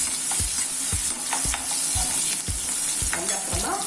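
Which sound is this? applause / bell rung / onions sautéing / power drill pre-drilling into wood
onions sautéing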